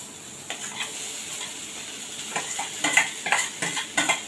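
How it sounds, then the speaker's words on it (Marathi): Boiled, finely chopped potato pieces stirred into a cooked vegetable filling for masala dosa, with soft scraping and clinking of a spoon against the pan under a faint sizzle, growing busier toward the end. "उकडलेले बटाटे चांगलं मिक्स करून घेऊया"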